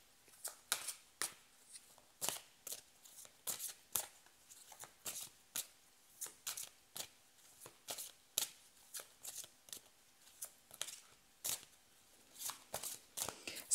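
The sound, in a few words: tarot cards being shuffled before drawing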